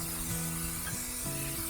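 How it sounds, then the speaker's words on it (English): A spray bottle hisses steadily while misting the back of a Fibo laminate shower wall panel, a continuous close, moderate spray with faint tonal hum underneath and no talking. "Spray it real good. Spray the back of the Fibo pad."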